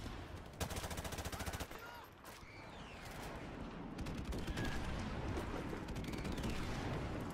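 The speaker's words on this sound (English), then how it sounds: "Airstrike right on me." Explosions and heavy gunfire in Call of Duty Modern Warfare multiplayer, an airstrike hitting nearby: dense rapid bangs and crackling blasts, loud and close, filling the scene continuously.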